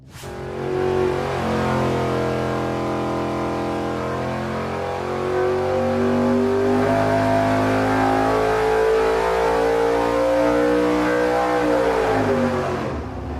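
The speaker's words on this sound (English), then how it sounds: "then we'll run it, and hopefully it makes right about that 300 horsepower gain" A nitrous-fed race engine runs on a dynamometer, roaring loud and continuous for the whole stretch, revs climbing steadily then easing off near the end, with no talk over it.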